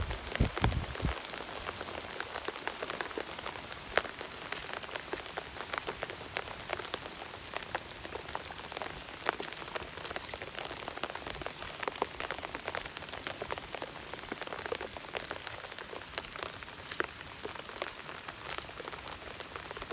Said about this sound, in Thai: ฟ้าฝนกำลังมาแล้วพี่น้องเอ้ยครึ้มเลย